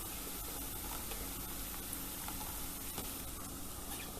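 Garlic frying in a pan during a vegetable filling for a lentil pie, making a steady, close sizzle that holds evenly throughout.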